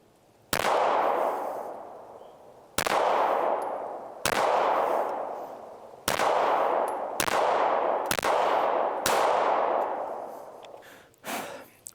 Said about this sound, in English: if you don't want to watch me dumping rounds downrange, that is totally fine